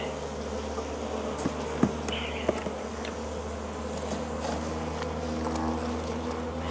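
Honey bees buzz in a steady, dense drone around open hives on a small farm in spring, a continuous hum with a few faint knocks against the hive boxes.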